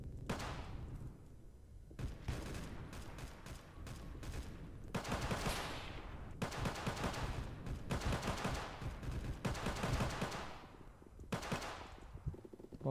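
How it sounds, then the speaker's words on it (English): Pistol gunfire in a Roblox shooter plays as loud, dense bursts of overlapping shots with short gaps, sustained and busy across the whole stretch. "Can't do anything but pistol now"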